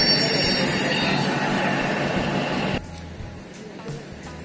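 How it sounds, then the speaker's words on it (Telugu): The Sirpur to Karimnagar passenger train pulls into Karimnagar railway station, a loud rushing roar of wheels and carriages with screeching rail noise that drops off abruptly to quieter station ambience. "మనకి ఇప్పుడు ఇది వచ్చేసి Sirpur to Karimnagar passenger train"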